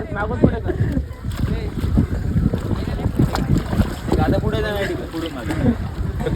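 A kayak out on open sea water near Malvan, with steady wind buffeting the microphone over continuous sloshing and splashing of the water, while voices talk throughout.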